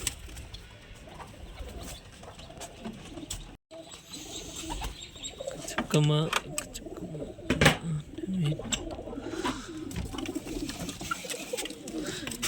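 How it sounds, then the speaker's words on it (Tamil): Pigeons in a rooftop pigeon cage coo nearby in soft repeated bursts, with some scattered chirps and rustling, and someone speaks intermittently over them. "இது ஒரு 2 சாதா புறா."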